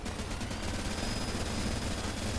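A chain gun fires in a video game as a continuous rapid burst of dense, loud gunfire that holds without pause throughout.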